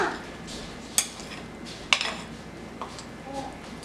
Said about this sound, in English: A little bit more once you start stirring it.